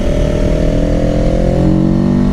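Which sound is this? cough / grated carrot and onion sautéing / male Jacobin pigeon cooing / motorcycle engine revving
motorcycle engine revving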